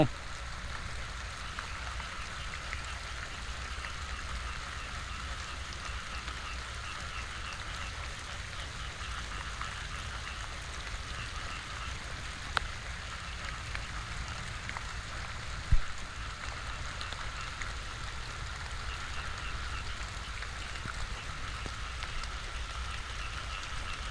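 Steady rain falls over flooded cassava fields in Rayong, Thailand, with little wind: an even, continuous hiss that holds throughout, broken only by a couple of faint clicks, with no talking.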